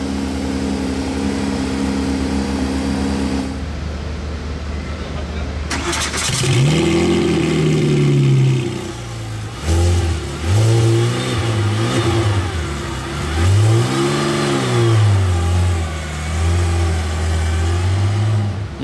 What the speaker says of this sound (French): Ce qui nous fait petit cold start, hein.